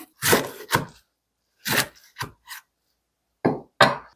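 Kitchen knife cutting dried radish greens into roughly 5 cm lengths, giving a handful of separate crisp chops and knocks on a board in uneven groups with silent gaps between them.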